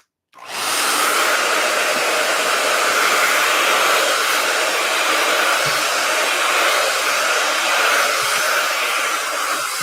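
A hair dryer switches on and blows at full power, a loud, steady broadband whoosh held close and constant while hair is dried, with no voices over it.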